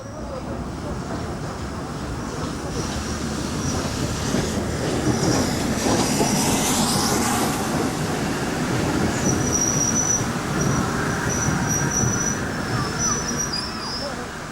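LNER Flying Scotsman steam locomotive hauling the Valentine Express special, a steady rolling rumble of the train with rail clatter and faint wheel squeal, sustained and fairly loud throughout.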